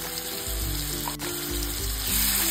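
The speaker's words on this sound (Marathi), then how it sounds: "आता कांदा आपल्याला तेलावरती मस्त असा परतून घ्यायचा आहे।" Chopped onion sautéing in oil in a pan, a steady close sizzle with a low hum that rises and falls underneath, no speech.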